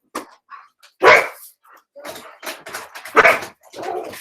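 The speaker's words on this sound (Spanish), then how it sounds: "Perdonen que se me volvieron locos los perros." Several dogs bark in loud, irregular bursts, with some whimpering and yips mixed in, heard up close indoors.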